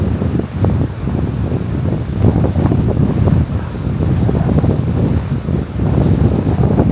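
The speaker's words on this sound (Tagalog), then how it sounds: "Guys, ang lakas ng hangin. Dito sa may ilalim ng bridge" Strong wind under a bridge by the Han River in Seoul roars and buffets the microphone continuously, a heavy low rumble with gusty surges and no voices.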